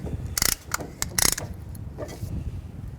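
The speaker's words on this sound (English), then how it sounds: "We're just going to use a compression tool here and an old brake pad to take up some room. And we're just going to squeeze our pistons back." A brake caliper piston compression tool ratchets in short, sharp clicking bursts while squeezing the pistons back against an old pad on the front brakes of a 2011-2017 Honda Odyssey, close and loud with brief pauses between strokes.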